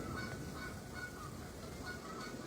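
Geese honk repeatedly at a distance outdoors in spring, the calls moderately faint and recurring in irregular bursts over steady background noise.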